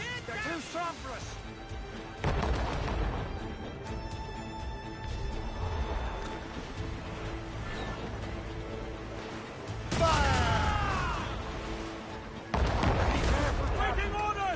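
Ship cannons from Assassin's Creed Rogue fire in heavy booming volleys at about 2, 10 and 12.5 seconds, with shouting crew and game music and effects around them.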